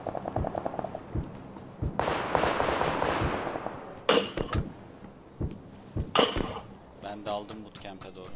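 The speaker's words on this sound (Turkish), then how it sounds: "Mermi sesleri geliyor" Gunfire in the PUBG Lite video game sounds as sharp bursts and single pops at middle distance, spread irregularly across the clip, while a player talks over the shots.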